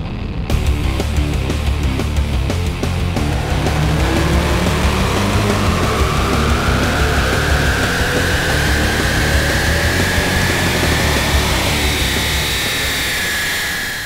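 Car engine tuned with an SCT performance tuner, run hard on a dynamometer: a loud sustained roar with rising pitch as revs climb, then easing off at the end, no talking.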